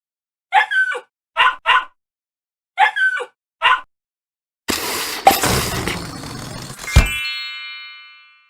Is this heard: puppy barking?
yes